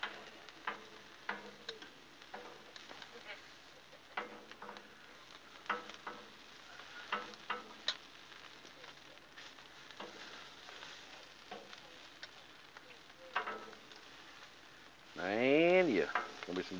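Hot dogs and onions sizzle steadily on a Blackstone griddle, a soft crackling hiss punctuated by scattered ticks and scraping as they are flipped, with a brief louder swell near the end.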